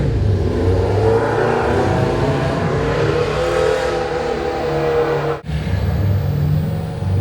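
A nearby car engine revs loudly and steadily for several seconds outside a house, briefly cutting out before roaring again.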